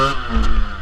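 A motorcycle engine revs hard as the rider pulls a wheelie, a loud, close, steady roar with a brief surge in the middle.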